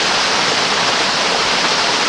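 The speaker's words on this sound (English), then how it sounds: "I'm sitting on top of a small waterfall right here." A small waterfall pouring into a running creek, a dense, steady roar of falling water, close and loud with no break.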